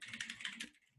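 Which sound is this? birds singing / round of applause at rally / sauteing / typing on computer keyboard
typing on computer keyboard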